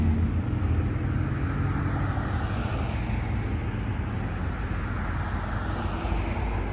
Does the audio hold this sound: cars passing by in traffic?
yes